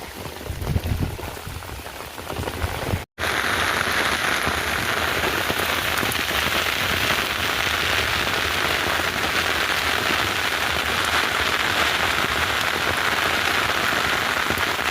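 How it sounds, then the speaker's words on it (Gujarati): Heavy rain pours down during a storm over a farm, a steady, dense roar of drops hitting surfaces that cuts out for a moment near the start and then resumes just as loud. "વરસાદ આવી ગયો છે"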